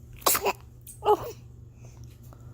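A baby sneezes twice in quick succession, two short sharp bursts about a second apart, close and clear against a quiet room, followed by a faint small vocal sound.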